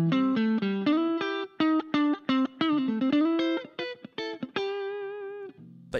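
Clean electric guitar through a ZT Lunchbox amplifier plays a quick run of bright, separate plucked notes, each ringing clearly, ending on a sustained note that slowly fades.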